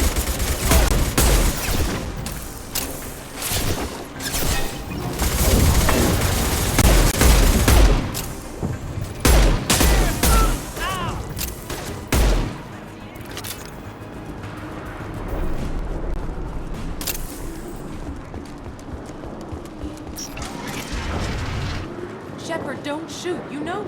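Rapid bursts of gunfire and heavy impacts from a firefight in the video game Mass Effect, loud and dense for the first half, then thinning out to scattered shots and a quieter background.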